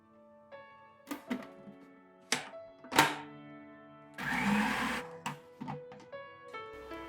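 A blender purees boiled cauliflower with apple cider vinegar, olive oil, salt and butter, heard in short whirring bursts and thunks, then one longer steady grinding run of about a second.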